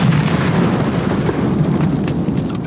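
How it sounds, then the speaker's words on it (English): A grenade blast in the video game Escape from Tarkov, a loud, sustained low rumbling boom that fills the whole moment with dense roaring energy and no voices over it. "He's throwing a grenade"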